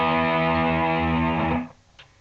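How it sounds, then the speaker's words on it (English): A distorted electric guitar chord from a Burns Steer Cutaway on the bridge pickup, full humbucker, rings out thick and sustained, then is cut off abruptly, leaving a brief scrape and faint buzz. "when you're got it set up for distortion"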